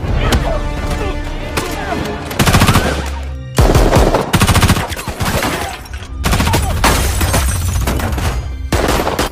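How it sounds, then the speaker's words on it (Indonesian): Loud bursts of rapid automatic gunfire in a film shootout rattle in quick succession, broken by short pauses, with sharp shots and crashes mixed in. "Di saat itulah, baku tembak antara mereka terjadi."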